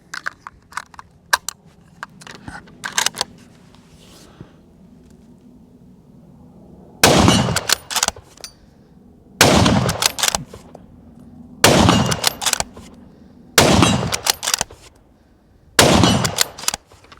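Sako 90 Finnlight .308 rifle firing Sako Gamehead 130 grain hollow point ammunition outdoors, five loud, sharp shots spaced about two seconds apart, preceded by quieter clicks and handling noise.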